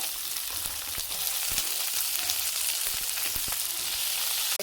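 Onion with curry leaves and coriander sautéing in a pan for tomato chutney, a continuous close sizzle broken by several stirring scrapes and knocks, no talk.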